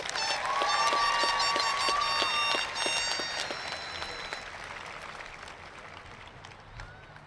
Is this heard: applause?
yes